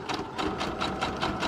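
Sewing machine stitching a straight line across a paper tag, a steady rapid run of needle strikes at close range, alone with no talk.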